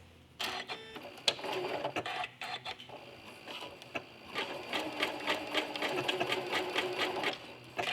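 A sewing machine stitches a quilt tack, running forward a few stitches and then back, with a rapid mechanical clatter that starts, pauses briefly and runs steadily for several seconds, loud and close.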